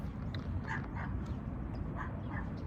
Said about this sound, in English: the cute little dog over there.